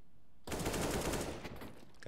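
Burst of AK rifle fire in a professional CS:GO esports match, a dense, loud volley of rapid shots starting abruptly and running for about a second and a half before tapering off.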